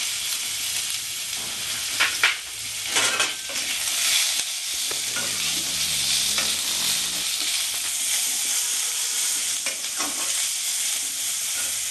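Onions and whole cumin fry in a single teaspoon of oil for a chicken dish, giving a steady close sizzle broken by a few louder stirring scrapes, with no talking.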